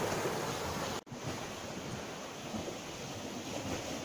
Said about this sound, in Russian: Море шумит.